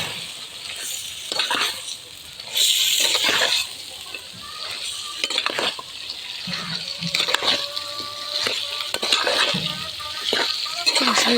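Food sautéed in a pan, a loud, rough sizzle with bursts of hissing and scraping stirs, close by.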